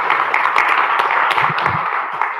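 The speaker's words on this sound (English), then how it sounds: "One more round of applause for Ms. Madison Jade." Dense applause from an audience at a city CRA meeting, steady clapping that fills the room throughout without letup.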